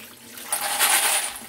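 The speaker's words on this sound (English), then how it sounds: "So what we'll do is turn that water off" Tap water runs into a sink while brass range cartridges are being wet-tumbled and rinsed, making a steady hiss that swells louder midway, close by with no voices.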